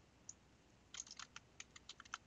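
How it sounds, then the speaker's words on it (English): Arrow keys pressed on a computer keyboard, a faint lone tap followed by a quick burst of crisp clicks at an uneven rhythm, close and quiet, with no talking. "I can move it around with the arrow keys."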